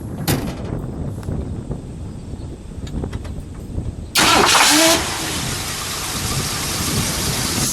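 A 1970 Ford XL with a 429 V8 and single exhaust idles smoothly and steadily, with a sharp louder burst partway through before settling back into a continuous rumble.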